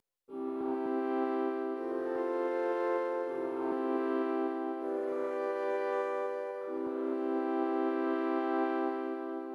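Piano chord progression played as root position triads, blocky chords shifting every second or two with audible jumps between positions, close and steady with no voices.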